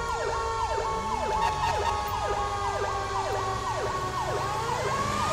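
Wailing American-style emergency siren from a fire engine responding to a call in GTA 5, repeating rising-falling sweeps steadily and loudly throughout, with an engine rumble underneath and no talking.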